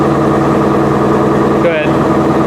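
A Ford Shelby GT350 with active exhaust in standard mode runs at a steady, loud, close idle, with a deep rumble throughout and a brief dip partway through; a voice speaks over it.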